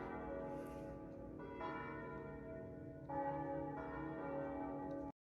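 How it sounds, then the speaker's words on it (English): Church bells chiming in Italy, several tones ringing and overlapping continuously, with fresh strikes layering in, loud and sustained until an abrupt stop. "we'll just wait for the church to stop chiming"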